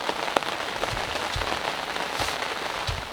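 Rain falls steadily outdoors on a fishing trip in France, a dense even hiss with scattered heavier drops pattering nearby and nobody talking.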